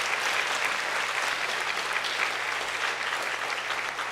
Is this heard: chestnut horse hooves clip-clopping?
no